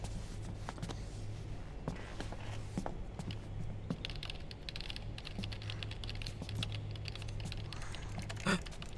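Rapid keyboard typing from Metal Gear Solid 4, dense and continuous clatter of keys running the whole stretch over a steady low hum, with one sharper louder hit near the end.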